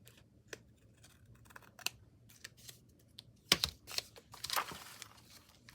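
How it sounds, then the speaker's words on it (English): Scissors snipping through paper: quiet, sparse clicks and crisp cuts, growing into a quick cluster of louder snips and rustling near the end, with no talking. "now let's cut this side off here"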